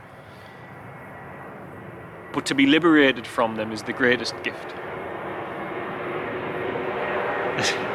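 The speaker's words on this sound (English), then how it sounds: "There's a plane coming." An airplane passes overhead as a low, steady, broad roar that runs through the whole clip and swells slightly toward the end, while a person talks over it partway through.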